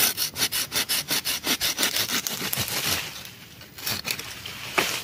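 A hand saw cuts through a durian tree branch during pruning with a quick run of rhythmic, close back-and-forth rasping strokes, then slower scraping and a few final strokes.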